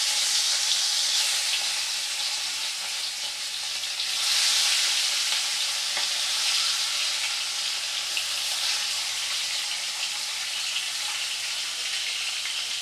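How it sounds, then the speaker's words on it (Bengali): Pieces of rohu fish fry in hot salted oil, a loud, continuous, close-up crackling sizzle that swells and eases slightly and runs without voices. "মাছটা ভাজা হোক"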